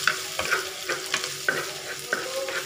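Green chilies and grated ginger fry in a clay pot for mango rice, with a spoon scraping and stirring in quick regular strokes over a close, crackling sizzle.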